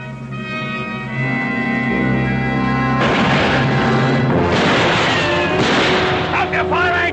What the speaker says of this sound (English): Stop shooting! Stop firing! Stop firing!